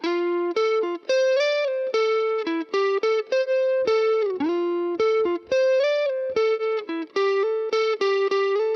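An electric guitar with EQ shaping and reverb plays a clean, bright melodic line of distinct plucked notes with some slides, loud and close, lingering on a reverb tail, with no voices.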